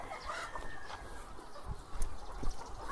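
Chickens cluck at a ready-to-lay chicken farm, soft scattered clucks and calls at moderate distance over a steady background hum, brief and fairly faint with no talk.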